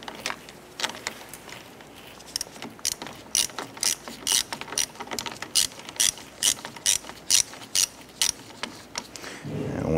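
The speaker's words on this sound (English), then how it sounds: "Let's go ahead and tighten down this side." Ratchet wrench tightening the negative battery terminal on a 1993-1997 Ford Ranger, a steady run of sharp, close clicking strokes in quick bursts, growing louder toward the end with no talk.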